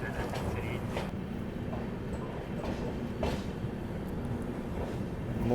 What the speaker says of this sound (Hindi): 5 मिनट के शेड्यूल हॉल्ट के बाद डिपार्चर अपना जमालपुर जंक्शन से